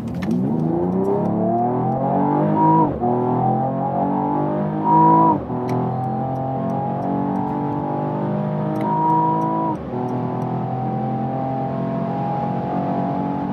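A premium estate car accelerates hard from 40 to 200 km/h, its engine note climbing steadily through several gear changes with brief dips at each shift, loud and continuous.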